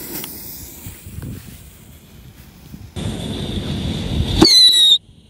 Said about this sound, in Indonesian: selanjutnya ini ada mercon tikusan 1 pak,